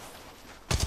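Gunfire in the mobile shooter game Apex Legends Mobile breaks in abruptly after a low ambient hum, a loud rapid burst of automatic shots.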